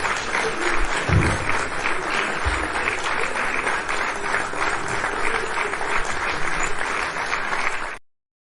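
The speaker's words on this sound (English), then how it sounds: "I want to give every single person who's here on this live with me a great round of applause." A round of applause from an audience joining a live stream, steady dense clapping at close range for about eight seconds before cutting off abruptly, with a few low thumps near the start.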